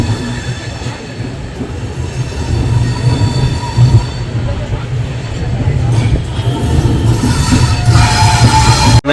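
A moving passenger train leaving Varanasi gives a steady, loud rumble of rolling wagons, with wheel squeal rising over the constant low roar throughout.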